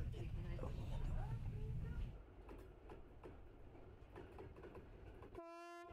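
A carriage on the Circum-Baikal railway near Lake Baikal rolls along with a steady low rumble that drops away after about two seconds, leaving quieter running noise with faint clicks and a short tonal whistle-like sound at the end.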